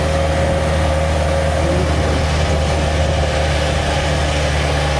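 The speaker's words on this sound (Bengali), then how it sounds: "গাড়ির ইঞ্জিনের যা অবস্থা ওইটা সাউন্ড শুনে বোঝা যাচ্ছে।" A car engine labours up the steep final climb of the hill road to Sajek Valley, a loud, steady low drone with a constant hum and no let-up.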